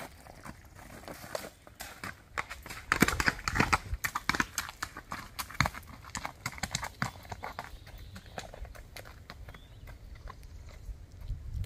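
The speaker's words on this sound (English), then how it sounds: "here goes Slim Shady into the second creek" A six-year-old black and white spotted saddle horse gelding walks into a creek, its hooves clip-clopping steadily at close range, with louder splashy steps in the middle.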